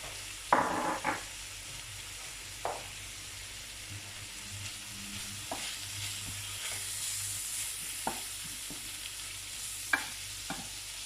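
Onions and meat frying together in a pan for a quick tagine, a steady broadband sizzle with occasional utensil scrapes and clicks as the mixture is stirred, fairly close and moderately quiet.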